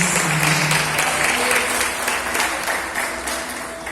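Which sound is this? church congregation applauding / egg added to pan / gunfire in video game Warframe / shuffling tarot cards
church congregation applauding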